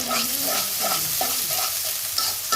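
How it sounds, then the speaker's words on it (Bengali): Chicken sizzles and crackles loudly in hot oil while a utensil scrapes and stirs the pan. "এক ধাপ ভেজেছি এখন আরেক ধাপ ভেজে নিলাম"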